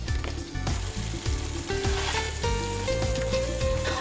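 Hot stock hits rice in a frying pan for a prawn and chorizo jambalaya, giving a steady close sizzle with bubbling, scraping stirs and soft utensil knocks throughout.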